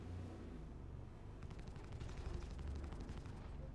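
Enemy guns firing in a video game, a rapid run of loud, rattling automatic shots that kicks in partway through and continues steadily to the end.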